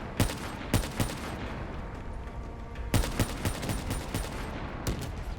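Gunfire in Black Ops 3 during the In Darkness mission: scattered sharp shots and short bursts ring out over a steady rumbling game background, with several louder cracks spaced irregularly.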